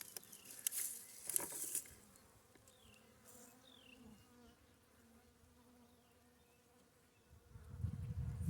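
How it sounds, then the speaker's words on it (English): Carniolan honey bees in an opened hive in early spring hum and buzz softly and steadily, with a few brief louder bursts of nearby wingbeats at the start and a rise in noise near the end. "Nice hive of carniolans here."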